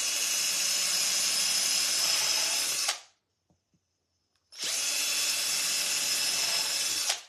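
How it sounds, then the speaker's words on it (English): A power drill bores holes in vintage aluminum Christmas light covers, two loud sustained high whining runs of several seconds each separated by a brief near-silent pause with a couple of faint clicks. "So we just drilled 4 holes right here."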